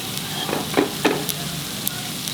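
Dry prawn chutney with coriander is stirred in a pan, a low steady sizzle broken by a few soft scraping strokes, close by and without talk.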